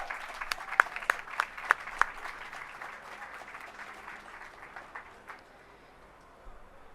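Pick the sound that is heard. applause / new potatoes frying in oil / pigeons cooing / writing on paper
applause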